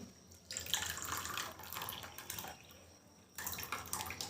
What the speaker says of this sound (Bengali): এবার আমি এটাকে ছেঁকে নিচ্ছি।